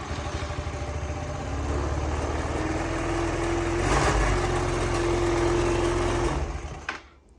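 A Yamaha Vino 125 scooter's small engine, brought back to life after sitting for years with a freshly cleaned carburetor and an auxiliary fuel tank, idles steadily and close by with a buzzing, even drone that cuts off near the end.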